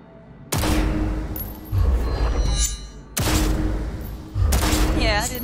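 Gunfire in Cyberpunk 2077 comes as two loud bursts of rapid shots, each followed by a softer burst and a reload clatter.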